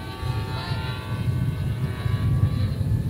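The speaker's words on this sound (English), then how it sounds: "When your propellers break the speed of sound, it turns out it makes the plane really loud." A model plane with contra-rotating propellers flies at a university aircraft competition, giving a loud, continuous buzzing drone with a rough, throbbing texture that swells slightly as it passes.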